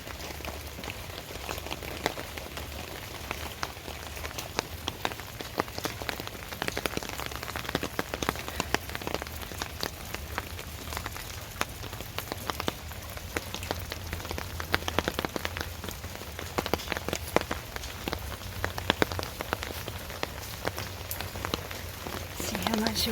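Heavy storm rain pours onto a partially shaded garden, a steady, dense patter of drops that stays fairly soft and even throughout with no letup.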